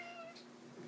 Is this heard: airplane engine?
no